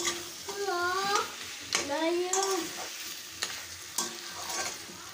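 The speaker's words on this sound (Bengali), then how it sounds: "এবার মটনটা ভালোভাবে কষিয়ে নেব।" Mutton for curry is stir-fried in a pan, soft sizzling under repeated scraping strokes of a spatula, with a few brief high squeaky tones over the frying.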